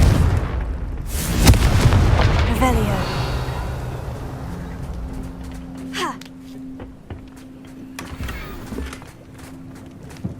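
A Confringo blasting spell explodes in the video game Hogwarts Legacy, a loud booming blast up front that rolls into a fading rumble, followed by quieter game effects and a low steady hum.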